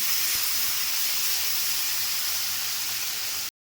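Water pours steadily into a pot of boiled pea lentils and fried mixed vegetables, making a loud continuous hissing rush for about three and a half seconds before it stops abruptly.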